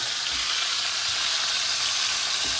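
Osso buco meat browning in a hot pan gives a steady, loud, close sizzle that fills the whole stretch with no pauses and no voices.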